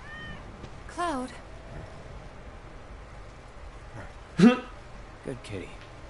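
A cat in a video game meows a few times, short and fairly clear, over quiet background ambience and game dialogue.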